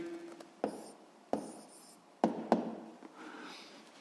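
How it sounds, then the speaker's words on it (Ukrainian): A pen writing down an answer to a seventh-grade physics exercise, with short scratchy strokes and a few sharp taps of the pen on the paper, close and quiet, no talk. "І записуємо відповідь."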